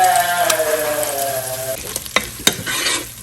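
Tomato paste hitting hot pan contents for chicken Manchurian, a loud continuous sizzle and crackle with a steady hiss, followed by a few sharp spoon knocks against the pan.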